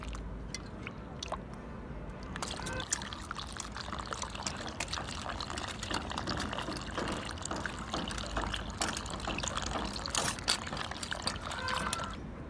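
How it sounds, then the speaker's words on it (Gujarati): Water sloshes and splashes continuously as cut potatoes are rinsed and stirred around by hand in a bowl, with steady pouring and trickling sounds. "બે ત્રણ પાણી આપણે હવે આ બટાકાને ધોઈ લઈશું"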